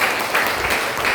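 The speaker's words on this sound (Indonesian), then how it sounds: "kasih tepuk tangan untuk kelompok 3" Students in a classroom clap for a group that has just presented, producing a short, even burst of applause that is dense and close throughout.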